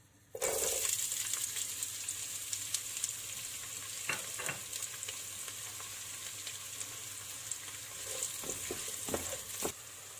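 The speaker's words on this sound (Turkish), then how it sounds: "Yağ ısındıktan sonra soğanları tencereye ilave ediyoruz." Steady, loud sizzling of onions frying in hot oil, a constant crackling hiss with a few brief clinks of a utensil stirring, no voices.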